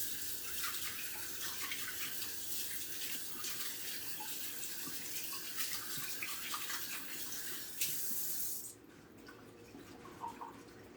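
Tap water runs steadily into a sink during handwashing in a home kitchen, a constant close splashing rush that cuts off near the end, leaving a few faint drips and small knocks.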